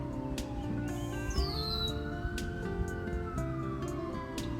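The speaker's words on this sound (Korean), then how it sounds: "멀리서 앰뷸런스 소리가 들리거든요." A distant ambulance siren swells up and falls away in one long, slow wail, faint under the ambient hum, with a few brief ticks.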